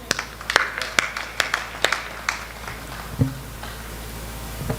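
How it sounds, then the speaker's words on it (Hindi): Sparse clapping from an audience at a kavi sammelan poetry recital in Sujangarh, a dozen or so scattered, uneven claps that thin out and trail off into quiet room noise. "तालियां बहुत कमजोर हैं"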